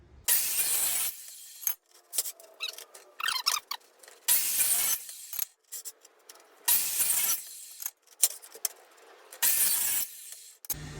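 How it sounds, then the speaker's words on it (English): Abrasive chop saw cutting a stack of 2-inch steel angle iron for welding table legs, several loud bursts of harsh broadband grinding separated by short quiet gaps, with clinks and shifting metal in between. "we took all the pieces of angle back to the chop saw, stacked them up, and chopped them all together"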